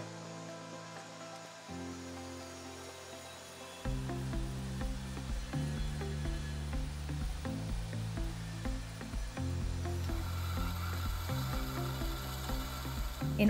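A KNUTH ABS 300 NC fully automatic band saw with hydraulic feed vise runs steadily, its humming motor and ticking, ratcheting mechanical noise stepping up in level as the machine moves through its cycle, with no talk.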